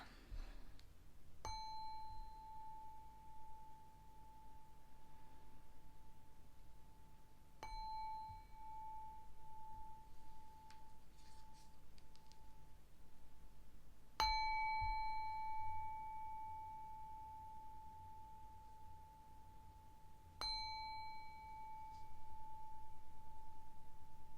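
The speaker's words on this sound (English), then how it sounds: "Gonna ring the bell." A small bell struck four times at slow, even intervals, each clear metallic ring lingering and fading gently over a quiet room, no talk.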